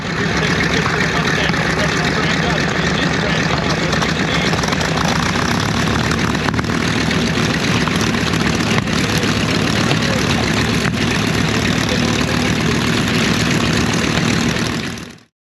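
A P-51D Mustang warbird at a WWII Weekend airshow in Reading, PA, starting up and idling: a loud, unbroken propeller-engine roar that holds steady close by for the whole stretch before cutting off abruptly.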